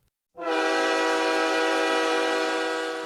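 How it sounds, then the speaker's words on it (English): A cargo train in Pyongan province, North Korea, sounds a loud sustained horn blast that starts abruptly after a brief silence and holds steady, rich in harmonics, with the rumble of the passing train beneath it. "A cargo train barrels through Pyongan province in North Korea."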